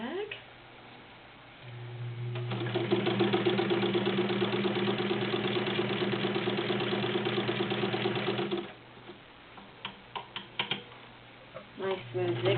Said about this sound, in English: Nice smooth zigzag stitch.